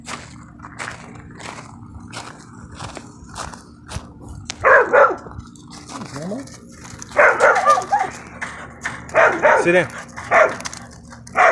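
A pregnant American Staffordshire pit bull kept on a chain barks repeatedly and loudly at close range, sharp regular barks broken by whimpers and yips, with someone speaking briefly in between.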